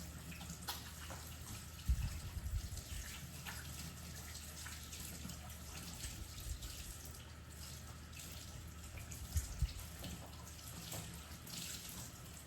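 Tap water runs steadily as a rag or cloth is wet for sourdough work, a continuous moderate splashing stream with a couple of brief louder sloshes, no voices.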